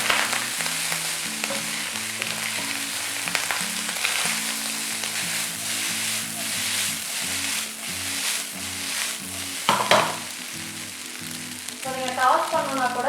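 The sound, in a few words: stir-frying chicken fried rice with chilli powder and garam masala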